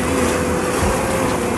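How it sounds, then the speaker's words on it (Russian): Waves from a passing motorboat's wake wash along a canal bank by the sea, a steady close swash with a low motor hum beneath, and no voices. "Волнишки от корабля."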